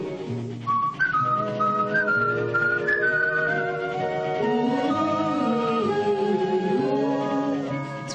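A person whistles a wavering melodic tune over a steady rumbling background, the clear sustained notes close and continuous.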